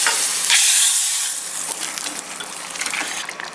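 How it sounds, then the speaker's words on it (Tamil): Dried red chillies with asafoetida sizzling in hot oil as a tempering for carrot kootu, a loud bright crackle and hiss that flares early then settles into steady frying with small pops. "இதெல்லாம் ஃப்ரை ஆகும்போது கருவேப்பிலை போட்டு இந்த கூட்டில் ஆட் பண்ணிக்கலாம்."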